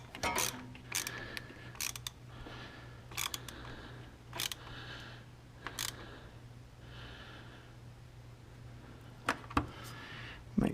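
Parts being tightened on a 2006 Can-Am Outlander Max 500 ATV: faint, scattered mechanical clicks and ratcheting, close and intermittent against a low steady hum.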